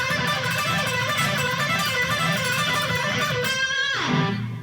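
A guitar lick played fast and not cleanly fills the clip as a dense, continuous run of notes, with a stray open string ringing through, and ends in a downward slide.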